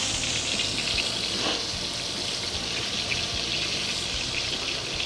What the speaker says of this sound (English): My taters is finally boiling.